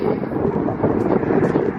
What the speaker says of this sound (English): it's a very windy night as I'm filming this